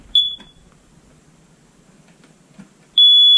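Hard-wired Kidde smoke alarm sounding its test: a short shrill high-pitched beep, then a quiet stretch with faint handling noise, then a loud sustained piercing tone near the end, close and alone without talk.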